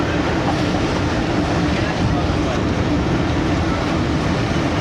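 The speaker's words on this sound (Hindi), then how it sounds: "2:53 और सांगला हिल जंक्शन पहुंच रही है अब ट्रेन।" A passenger train rumbles into Sangla Hill Junction, a loud, steady roar of wheels and carriage noise heard from on board, with talk faintly underneath.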